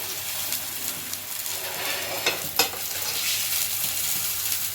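Egg kalaki, a Tamil-style scrambled egg, sizzles and hisses steadily in a pan while being stirred and turned, with a few brief scraping knocks from the utensil.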